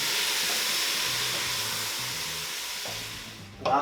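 Spices roast in the bottom of a pan for a lentil curry, giving a steady bright sizzling hiss that slowly fades before a sudden louder burst near the end, with no voices.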